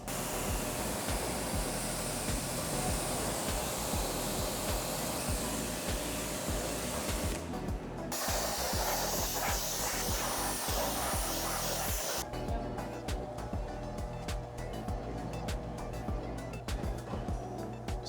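Water spray rinsing a car during detailing, a steady loud hissing stream that runs almost continuously, with two brief breaks as the spray shifts.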